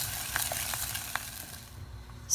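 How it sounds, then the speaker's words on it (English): A milk and flour sauce for macaroni and cheese is stirred in a pan over low heat, giving a soft continuous sizzle with faint scraping taps from the utensil and no voices. "Turn low the fire and mix it well until the sauce will turns into thick."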